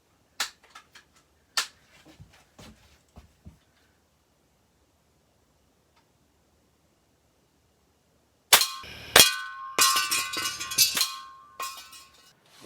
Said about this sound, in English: Last test, just make sure it'll fire a pellet.